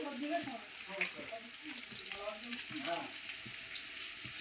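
Potatoes fry in a pan with a steady, soft sizzle throughout, close but quiet, while a voice talks over it.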